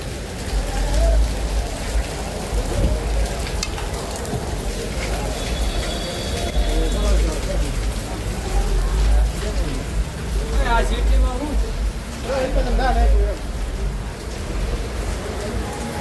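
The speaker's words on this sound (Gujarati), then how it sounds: "વરસાદ તબાક તબાક વરસે છે" Heavy rain pours in a steady roar throughout beside a cave temple in Haridwar, with people talking underneath and some knocking sounds.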